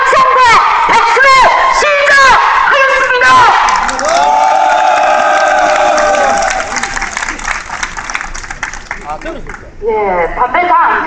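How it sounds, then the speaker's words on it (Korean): Cheering and applause from a metal workers' union rally in Busan-Yangsan, with shouts and whoops over clapping from a large crowd, loud and close, while an amplified voice speaks over it. "동지 여러분들의 힘찬 합성과 박수로"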